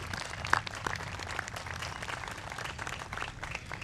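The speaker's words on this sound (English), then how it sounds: "Round of applause, please, for them." A crowd applauds steadily at a military band concert, a broad wash of clapping from many hands at moderate volume, with a few louder individual claps near the start.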